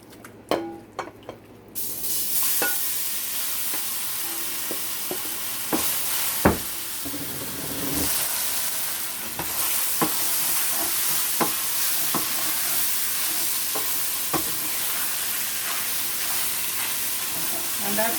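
Beef and cabbage stir fry, with bacon, is stirred in a hot pot, giving a steady loud sizzle with sharp scraping and clacking knocks from the spoon at irregular intervals.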